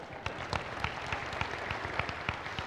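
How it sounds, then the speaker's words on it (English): Church audience applause, a moderate spread of many hands clapping with distinct sharp claps standing out, fairly even throughout and without voices. "That's worthy of applause."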